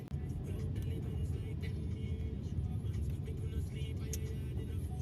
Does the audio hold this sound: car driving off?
yes